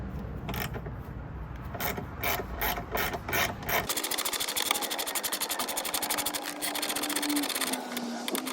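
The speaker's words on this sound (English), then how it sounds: "What I'm doing here is removing this trim to gain access to the bonnet hinges." Trim is pried and worked off a crashed Mercedes to reach the bonnet hinges. Close, rhythmic scraping clicks give way to a continuous buzzing rasp, with no talking.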